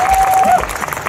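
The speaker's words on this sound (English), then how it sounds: "Can I have a mediocre applause?" A convention crowd at a Comic Con Q&A session gives a moderate, loose round of clapping, fairly near, with a whistle-like tone briefly sounding over it.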